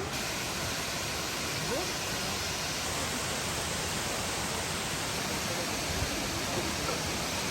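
A waterfall at a Croatian national park roars as a dense, even rush of falling water that fills the whole scene without a break, with no voices standing out.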